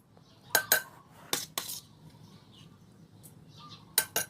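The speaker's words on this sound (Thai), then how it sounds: "ตำปลาทูครับ" Boiled mackerel meat is pounded in a mortar with a pestle, giving sharp, hard knocks in uneven pairs, close and distinct over a quiet background.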